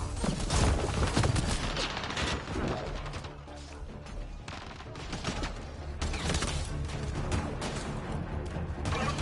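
Dense, sustained video-game gunfire from a PS4 firefight, with overlapping rapid shots and blasts rolling continuously at loud volume and no clear pauses.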